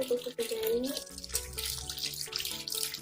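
Hands rinsed under running tap water, a steady splashing wash filling the short stretch, with a voice talking over it.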